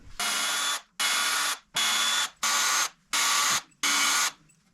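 A power drill backs screws out of a wooden workbench in six close, evenly spaced bursts of whirring, each about half a second long, with short silent gaps between them and no talking.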